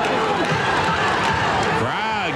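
A wrestling arena crowd roars steadily and loudly throughout, a dense wall of cheering and hollering with a commentator's voice running over it.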